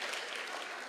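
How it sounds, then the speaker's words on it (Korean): A church congregation claps for one another in a short burst of steady, dense applause, close and continuous across the whole moment with no talking. "박수. 서로 간에 박수."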